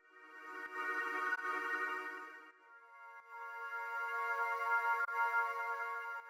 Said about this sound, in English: I duplicated them over and then reversed them. That creates this kind of swell instead.